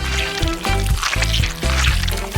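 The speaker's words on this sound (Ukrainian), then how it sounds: "А тепер дивись. Заливаємо форму." Thick dessert mixture with chocolate paste poured into a mould, a steady loud liquid pour with periodic low thumps and splashes across the stretch, no talking.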